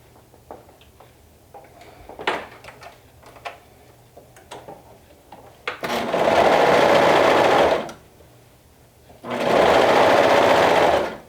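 A sewing machine stitches the front and back fabric pieces of a tee together, running in two steady, close bursts of about two seconds each with quiet handling noises between them.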